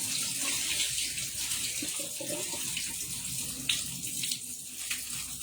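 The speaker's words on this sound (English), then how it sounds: "I keep them in the bag and I just fill it up with water, and then I just drain it" Tap water runs steadily into a bag holding about 20 pounds of raw chicken, a continuous close, moderately loud splashing rush with faint rustling of the bag and no talking.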